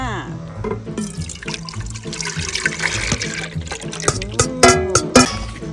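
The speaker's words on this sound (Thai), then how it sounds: "น้ำมะขามสดที่เราคั้นเมื่อกี้ค่ะทุกคนค่ะมาเราก็เทใส่ลงเลย" Fresh-squeezed tamarind juice pours into a pot of Thai sour curry with shrimp, a close gurgling, splashing stream with clinks, while a voice talks over it.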